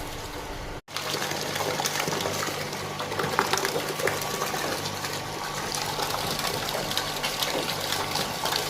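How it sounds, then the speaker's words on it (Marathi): An RO water purifier plant starts and runs, its pump drone and rushing water flow filling the clip after a brief cut near the start, holding steady and fairly loud with no speech. "आता परफॉर्मन्स दाखवतो चालू केल्याच्या नंतर आरो प्लांटचा."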